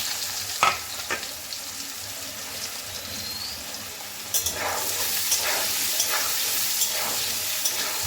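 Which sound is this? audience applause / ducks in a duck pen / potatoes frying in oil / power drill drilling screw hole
potatoes frying in oil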